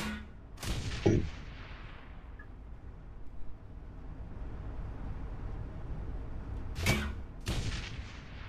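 Grenade blasts in the Shadowrun: Hong Kong video game, heard as sharp booming bursts near the start and two more near the end over a low, steady background rumble, with no voices.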